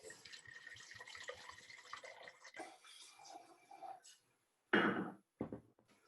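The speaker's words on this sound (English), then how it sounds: "let's pour a glass and give her a taste" Wine from a legendary Saint-Emilion vintage poured into a glass, a soft trickling splash under low background murmur, ending in a short louder gush and a brief final splash.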